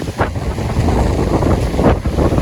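Strong typhoon wind roars and buffets a microphone outdoors, a constant loud rushing with gusty swells and surges, with no voices over it.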